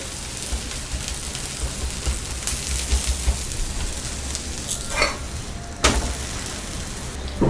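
A Spanish omelette fries in an oiled pan, likely under a lid, giving a steady broadband sizzle throughout with a few louder crackles and spits near the end, close and moderately loud with no talking.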